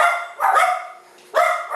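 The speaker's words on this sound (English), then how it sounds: "That's the dogs, ladies and gentlemen. Barking at nothing." Dogs bark in two loud, close bursts, each a quick cluster of yelps with a short quiet gap between them and no talking.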